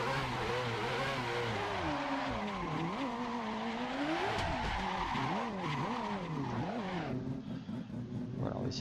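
Turbocharged car drifting in the Assetto Corsa racing game, its engine droning and rising and falling in pitch under continuous loud tire squeal, with someone talking over it.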